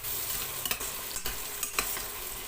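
Onions stirred and sautéed in a pan for a home-cooked meal, a steady close sizzle broken by a few soft spatula scrapes, with no talking.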